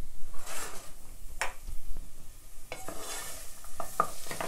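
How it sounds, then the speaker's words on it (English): Onions sizzle as they fry in a pot for an Iraqi-style lentil soup, with a utensil stirring and scraping in occasional close strokes over the steady hiss. "I'm just kind of occasionally stirring it, not continuously, so that I can let it cook for a bit"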